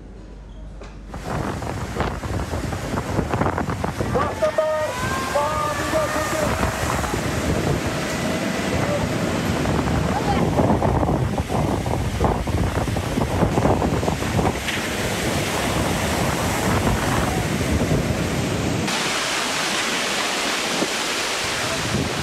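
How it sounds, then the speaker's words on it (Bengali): Cyclone Remal's gusty storm wind roars and buffets the microphone on the Bangladesh coast while surging sea waves crash continuously, loud and steady throughout. "পূর্ণ শক্তি নিয়ে দেশের উপকূলে ঝড়ের অগ্রভাগ এগিয়ে আসছে, বয়ে যাচ্ছে দমকা ঝড়ো হাওয়া।"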